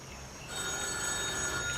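A telephone rings with a steady electronic tone that swells after a brief quieter start, fairly faint and with no talk over it.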